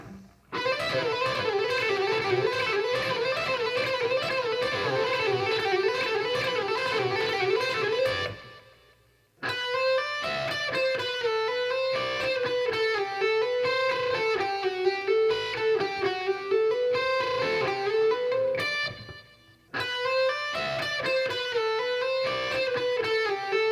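An electric guitar plays a hi-tech rock lick with barring and bending, wavering notes, repeated in three phrases separated by short pauses, clean and fairly quiet.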